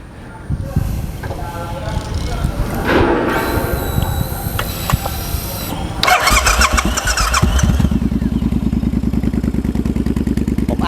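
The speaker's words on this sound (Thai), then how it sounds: "เดี๋ยวเรามาฟังเสียงท่อกันนิดนึง" A customized Triumph Bobber motorcycle with titanium exhaust starts, idles with a deep rumble, then revs loudly before settling into a steady throaty burble from the exhaust.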